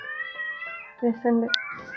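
A cat meows a couple of times, close and clear, against faint background sound.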